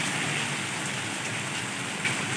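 Steady rain patters down in a constant soft hiss, even and unbroken, with no voices.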